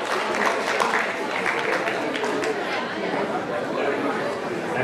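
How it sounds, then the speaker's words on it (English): An audience at a presentation event claps steadily in a dense wash of applause, with crowd chatter and voices mixed throughout. "Please give them a round of applause, ladies and gentlemen"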